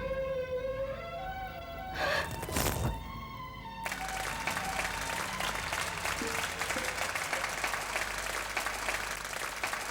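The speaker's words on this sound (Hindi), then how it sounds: "तालियों की गड़गड़ाहट" Applause from an audience for a stage performance breaks out and then holds as a dense, steady clatter of clapping after a brief musical passage.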